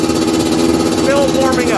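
Suzuki LT250R quad engine idling while warming up, a close, loud, steady pulsing rumble throughout a short stretch.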